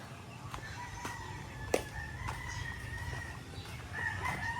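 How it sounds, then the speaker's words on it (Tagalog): Chickens and a rooster at a large chicken farm in the Philippines, with repeated crowing and clucking from several birds at middle distance over steady outdoor ambience. "malaki yung manukan ni GTP kaya nakakapagod maglakad mga boss eh"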